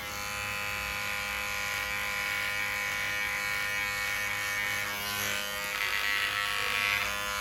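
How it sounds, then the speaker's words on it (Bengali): An electric hair clipper set to zero runs steadily and close, its buzz slowly trimming the lower side of the head during a high fade haircut, with no talk. "এবার প্রপার বড় মেশিন জিরো করে হালকা করে স্লো করে নিচের সাইডটা ছেটে নিচ্ছি"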